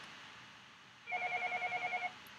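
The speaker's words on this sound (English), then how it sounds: "That's my phone in the background." A phone rings faintly in the background of a quiet room, a single burst of rapidly pulsing electronic ringtone lasting about a second against a low steady hiss, with no talking.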